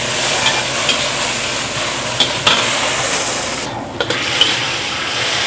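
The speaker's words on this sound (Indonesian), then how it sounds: "Tumis jamur ini kok." Mushrooms stir-fried in a pan give a steady, close sizzle with scraping stirs and a brief clatter near the middle, with no talking.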